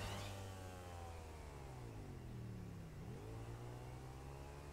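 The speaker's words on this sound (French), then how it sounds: "Bah, ma moto, elle accélère plus." A motorcycle engine in a video game parkour level revs with a steady drone, its pitch sliding down and climbing again as it loses acceleration, continuous and close.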